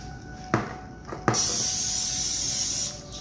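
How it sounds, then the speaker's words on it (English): Two short taps, then a steady hiss of an aerosol cooking spray for about a second and a half before it stops. "I'm going to go ahead and spray some cooking oil on there"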